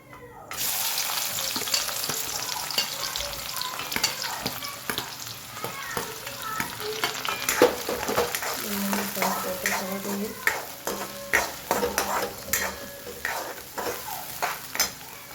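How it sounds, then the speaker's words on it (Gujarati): Chopped onion frying with cumin in a pan, a loud steady sizzle with repeated spoon scrapes and stirring clatter growing busier toward the end. "બસ જીરું થઈ જાય એટલે એમાં આપણે એડ કરીશું ડુંગળી"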